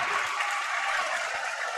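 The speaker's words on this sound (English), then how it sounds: "This gym is clapping on the Waterford side." A basketball gym crowd on the Waterford side during a boys' high school game applauds, a dense steady wash of clapping from many hands with no pause and no voices heard.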